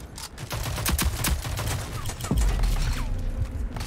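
Rapid bursts of gunfire from several shooters crackle in a Rogue Company match, a dense, loud fusillade of repeated shots close by, with a rocket whooshing amid the game noise.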